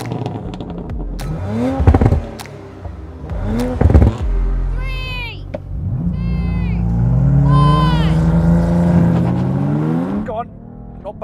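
BMW M3 CS and Audi RS4 launching side by side in a drag race, loud engines revving hard with sharp upshift gaps, then rising harmonic acceleration climbing through the gears, close and dominant.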